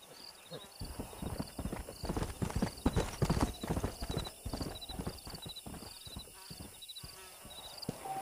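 Horse hooves clip-clop in a steady, close walking rhythm across open ground in the western game Red Dead Redemption, joined by a brief whinny and faint background ambience.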